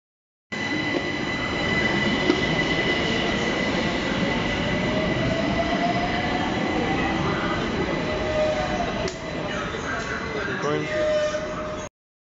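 A London Overground train rumbles through Canada Water station, a loud continuous roar of wheels on rails with rising whines and squeals, heard close from inside or on the platform.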